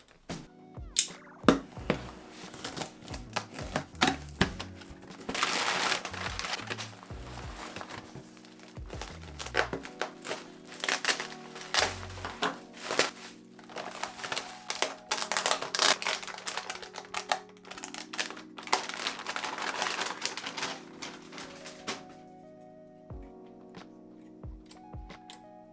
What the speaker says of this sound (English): let's open up this box and take a look